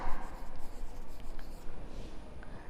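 Pen or chalk writing steadily through a math lesson on quadrilateral angles, a continuous scratchy scribble in short uneven strokes, close and fairly loud, with no one speaking.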